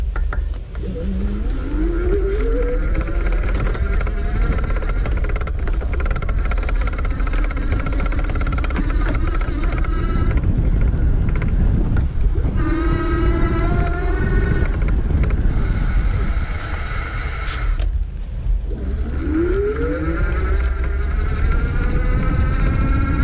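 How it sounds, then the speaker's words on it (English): A Rad Power Bikes RadCity 5 Plus step-thru electric bike gives off a steady close riding noise, with motor whine rising and falling in pitch and some faint rattling, continuous throughout. "keep your ears perked for the fenders, for the kickstand, anything else that could be making noise while we ride"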